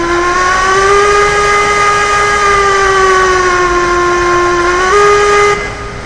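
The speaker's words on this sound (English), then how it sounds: "wrong with the whistle on the Class 48" Steam whistle of a Class 48 locomotive in the Railroads Online game, one long loud continuous chord-like hoot with a hiss behind it, wavering slightly in pitch before cutting off near the end, with no talk; the whistle sounds faulty.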